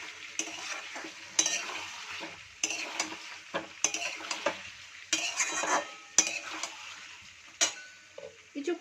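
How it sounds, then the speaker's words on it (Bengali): Potatoes are sautéed with spices in a pan, with bursts of sizzling as they are stirred. Repeated scraping and clinks of a spoon against the pan come in uneven strokes, close and fairly quiet. "আলুগুলো দিয়ে মশলাটাকে ভালো করে কষিয়ে নেব।"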